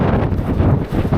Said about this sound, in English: It's just when them big gusts come down off the fell.